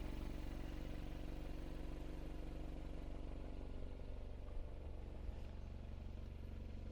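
A 2020 Oreion beach buggy's four-cylinder engine with stainless steel exhaust runs steadily at idle, a constant low rumble with a faint mechanical clatter, close by and with no talking.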